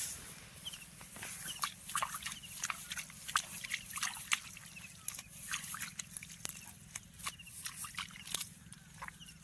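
Plant roots with many tillers being rinsed and swished in water, giving a steady run of trickling, dripping and sloshing splashes over a constant low background hum, close by with no talking.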